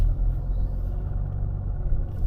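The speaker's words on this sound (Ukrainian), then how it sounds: "і автомобіль дуже легко рушає" A Mercedes with an automatic gearbox pulls away smoothly from a stop in second gear in winter, its low engine rumble a steady muffled drone heard from inside.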